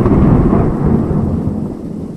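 Rumbling thunder rolls through a steady rain in an animated film scene, loud and close at first and slowly fading over a couple of seconds with no voices.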